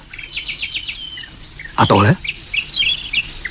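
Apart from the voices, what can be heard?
small bird chirping on a branch and cicadas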